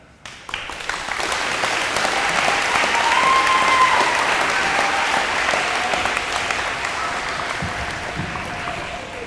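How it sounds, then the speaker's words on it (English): Steady applause from a large crowd at an elementary school DARE graduation, clapping continuously and fairly loud for several seconds before slowly tapering off. "Let's give all of our DARE graduates one more big round of applause."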